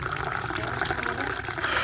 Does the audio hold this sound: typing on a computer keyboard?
no